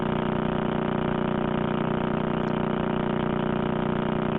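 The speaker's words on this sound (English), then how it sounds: "this pulsar is starting to sound almost like a pneumatic drill or maybe some kind of like car engine in outer space" Radio pulses from a pulsar spinning about 30 times a second, played as sound: a rapid, even buzzing drone, steady and unbroken, somewhat like an idling engine or a pneumatic drill.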